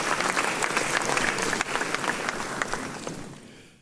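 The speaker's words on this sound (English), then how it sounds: "Please do a big round of applause." A hall audience at a law school honorific lecture breaks into loud, dense applause, steady for about three seconds before thinning and fading out.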